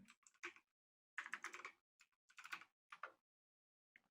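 Bursts of computer keyboard typing, crisp close key clicks in short irregular clusters separated by silent pauses, fairly quiet with no voices.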